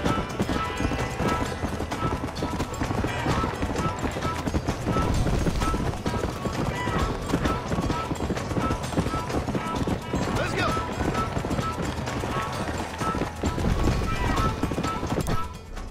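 Horse hooves gallop steadily in Red Dead Redemption, a dense, continuous clip-clop with an occasional whinny, loud and close amid a busy game soundscape.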